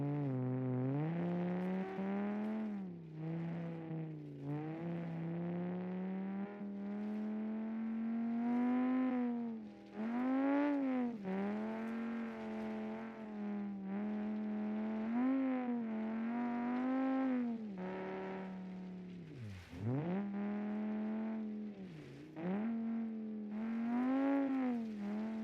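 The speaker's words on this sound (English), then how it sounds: "of course this car doesn't have any mufflers or anything like that, so if it's too loud" An unmuffled MR rallye car engine in a racing video game, loud and rasping, revving up and down continuously through gear changes and drifts with deep dips and quick climbs, no talk.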